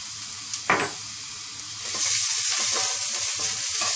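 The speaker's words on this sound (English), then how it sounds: "First I'm adding the chopped ginger and also the garlic. I'm adding the green chilies." Chopped ginger, garlic and green chilies dropped into hot oil for an Indian broccoli and mushroom soup. A few clatters come first, then a steady sizzle builds after about two seconds and holds.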